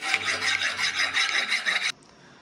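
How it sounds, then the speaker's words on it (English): A steady, rasping back-and-forth scrape of abrasive sanding welded metal corners for about two seconds, close up, then it stops abruptly. "Sanding the corners."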